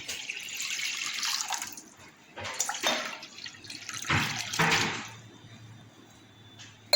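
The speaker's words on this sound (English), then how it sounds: "So first we will pour water in it." Water pours in splashing bursts into a cooking pot for pasta, with a few separate gushes and pauses between them, nearby and moderately loud.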